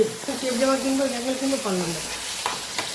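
Prawns fry in a pan with a steady hiss, while a voice talks over the sizzle for most of the three seconds.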